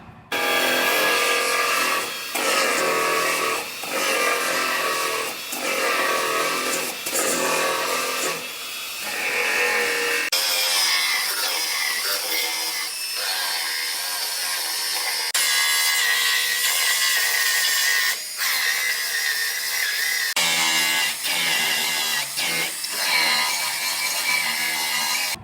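Cutting out the glued inner wheelhouse panel of a car in a body shop, a continuous loud grinding, sawing power-tool noise with brief breaks and shifts in pitch, running alone without talk.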